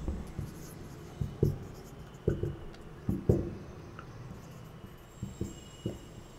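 Chalk or marker strokes on a board while an ellipse equation is written, a run of short scratchy taps in small clusters, fairly close and moderately loud, with no talking.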